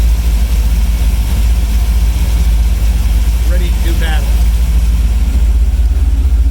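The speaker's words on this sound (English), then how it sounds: "here we are down here with the engines running. They're purring like little kittens" Twin 454 inboard engines idle aboard a boat, heard up close from the engine compartment as a loud, steady low rumble that fills the whole clip, with someone speaking briefly over it.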